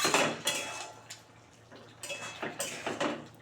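A spoon stirs cauliflower and potato curry in a pot, giving a few scraping clinks and knocks in short bursts with quiet gaps between them.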